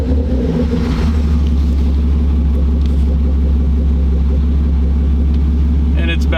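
A BMW E36 325is with its muffler deleted idles after being cranked, a loud, steady low rumble with a throbbing exhaust note that holds even throughout, heard close with speech over it.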